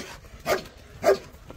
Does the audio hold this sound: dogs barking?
yes